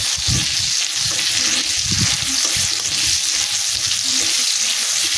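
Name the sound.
spice paste with tomato frying in a pan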